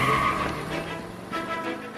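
In L.A. Noire, a car pulls away with a brief, loud squeal of skidding tires and a rising engine, close and short, with no talk.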